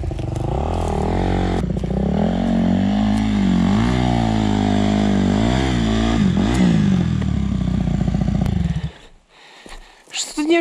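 A 250 cc dirt bike, an Avantis 250 Pro or Suzuki RMZ 250, revs loudly close by, its engine note climbing and dropping in waves for several seconds before cutting off, followed by a few clatters.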